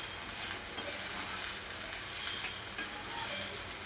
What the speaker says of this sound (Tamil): இது நல்லா வதங்கிடுச்சுங்க